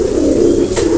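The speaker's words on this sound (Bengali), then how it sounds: "কবুতরটা অনেক সুন্দর হবে" A teddy pigeon of an imported bloodline gives one short, low, close coo that holds a steady throaty tone throughout.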